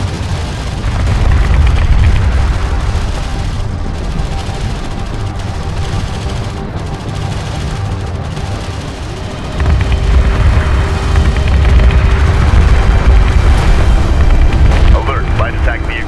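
Gunfire and explosions in Homeworld: Deserts of Kharak form a dense, continuous battle din of deep booms and crackling shots. Voices talk over it intermittently, and the rumble grows louder in the second half.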